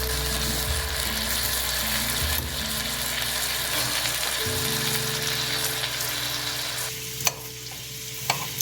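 Chicken steak frying in a pan, a steady loud sizzle with a low bubbling hiss and a few sharp clicks of a utensil near the end, close and continuous with no talking.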